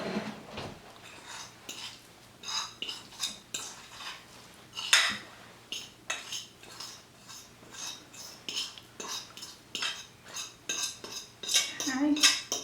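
Black beans being scooped into a bowl, a steady run of close spoon scrapes and clinks against pot and bowl, repeated throughout at an uneven rhythm.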